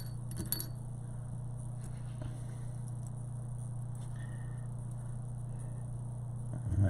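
Airbrush parts from an Iwata Micron and CM-SB airbrush sloshed in reducer inside a glass jar, a faint glassy jangle and clink over a steady low hum, most of it in the first second.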